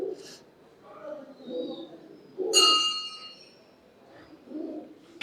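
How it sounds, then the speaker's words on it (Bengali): A bell strikes once at the Lahoriya Shiva temple, a bright metallic ring with a short decay standing out over soft background murmur, birds and quiet voices. "এখানে অনেকগুলো ঘন্টা আছে, কিন্তু প্রত্যেকটা ঘন্টার আওয়াজ কিন্তু আলাদা আলাদা।"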